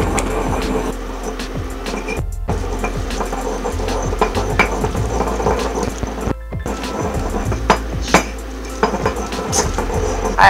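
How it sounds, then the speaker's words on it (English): Peppers mashed in a bowl for homemade salsa, giving a busy run of close clacks, scrapes and knocks against the bowl that keeps going steadily for several seconds, with no talk. "Now I'm gonna mash the peppers."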